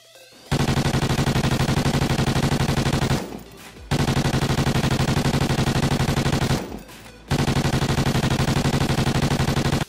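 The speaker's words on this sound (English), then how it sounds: "this is the Vector CRB uh, from Call of Duty Ghost" Vector CRB submachine gun fire in Call of Duty Ghosts: three long, loud, very rapid automatic bursts, each lasting about three seconds, separated by brief pauses with faint mechanical reload clicks.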